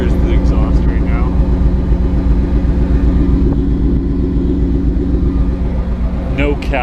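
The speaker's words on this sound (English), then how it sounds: "here's the exhaust right now." A GMC Sierra truck's exhaust through a Thrush muffler with no catalytic converter, warmed up and idling with a loud, deep rumbling burble that holds steady, brief voices heard faintly at the edges.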